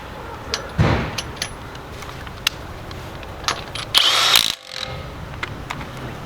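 A Milwaukee 1/2-inch impact wrench runs a lug nut back on in two short, loud, close bursts, a brief one early and a longer hammering burst later, with quiet handling noise between.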